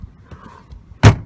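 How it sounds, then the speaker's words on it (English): A release bar pulled to unlock the rear seats of a 2016 Honda HR-V gives a single sharp, loud mechanical clunk near the end, following a quiet moment. "all I have to do to unlock them is pull this bar"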